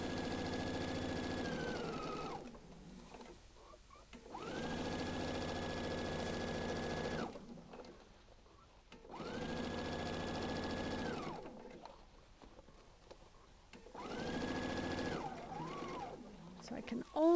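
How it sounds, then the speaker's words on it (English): A sewing machine stitches down the folded face of a quilt onto its facing in three long steady runs of close motor whir, with short pauses between bursts and no talk over it. "then you're stitching down the face, the folded part of the quilt to the facing."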